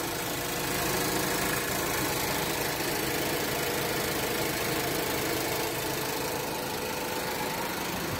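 A 2018 Ford EcoSport engine idles just after an oil and filter change, a steady, dense running drone heard up close and loud throughout, with no one speaking.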